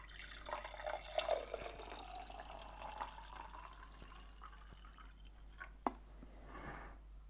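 Water poured into a glass to dilute fruit squash, a faint close trickle and splash with a few drips and a brief louder gush near the end.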